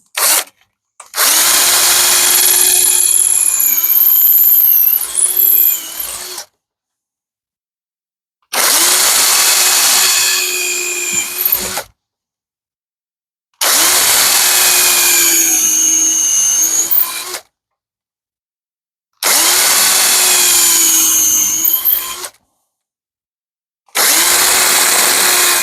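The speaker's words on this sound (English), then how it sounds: "And we'll keep drilling." A power drill whirs loudly up close in five long bursts, each separated by a silent pause, its pitch dipping and rising under load.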